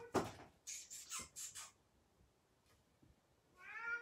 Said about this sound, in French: Pauvre petit cœur, j'ai des chats